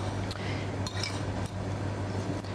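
Mushrooms, tomatoes, shrimp and mayonnaise being stirred together in a bowl, with soft clinks of a utensil and wet squishing in a steady rhythm, close and moderately quiet over a low background hum.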